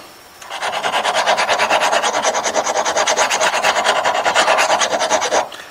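Steady rasping file strokes sharpen a crossbow broadhead to raise a burr, a fast even rhythm of close, loud scraping running continuously for about five seconds with no talk.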